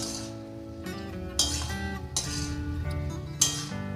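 Sweet jujube berries are stirred in a pan for pickle: a few sharp metallic clinks of a spoon against the pan ring out at intervals over quiet background music.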